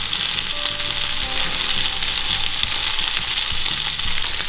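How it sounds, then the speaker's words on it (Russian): Pounded squid cutlets sizzle and spit steadily in a hot pan, a dense bright crackle of frying with faint low clatter underneath, close and continuous. "И точно так же жарим остальные"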